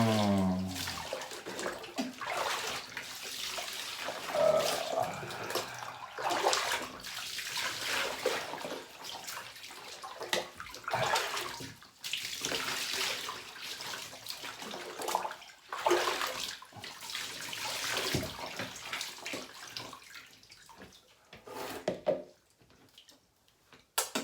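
Water pours from a tap into a bathtub, a soft, continuous splashing wash with uneven surges and quieter dips, fairly close and alone without talk.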